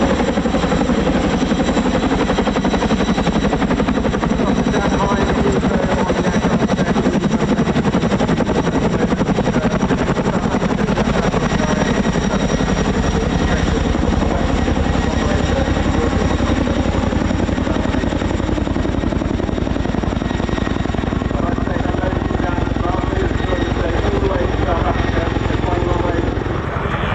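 Chinook twin-rotor helicopters flying past at the RAF Cosford air show, a loud, steady broadband roar with rotor thrum lasting throughout, joined by crowd or commentary noise beneath.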